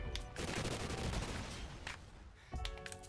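Rapid automatic gunfire in Call of Duty: Ghosts multiplayer, a loud close burst of fast shots that pauses briefly and then resumes, with no talking.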